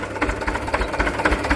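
An URSUS C-328 tractor engine runs with little throttle while pulling a horse-drawn mower adapted for the tractor, its close, rhythmic chugging pulsing quickly and steadily throughout.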